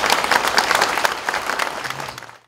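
An audience in a Seoul church applauds during a memorial service for former president Park Chung-hee, loud continuous clapping that swells and then fades out toward the end.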